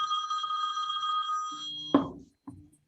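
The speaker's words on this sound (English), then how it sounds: "I love the sound of a ringing phone." A telephone bell rings steadily for about a second and a half, then stops; a couple of short knocks or handling sounds follow in a quiet room.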